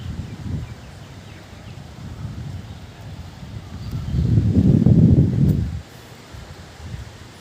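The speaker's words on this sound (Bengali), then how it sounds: "দেখতে পাচ্ছেন বাতাস উঠে গেছে" Wind picks up under dark rain clouds in Rajshahi, a steady low rushing that swells into a louder gust in the middle, then drops back to a softer, rustling background.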